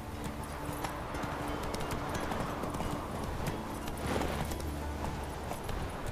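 Horse hooves pound in a steady, continuous galloping clip-clop in The Witcher 3: Wild Hunt, loud and close across the whole stretch, with a faint hint of a voice.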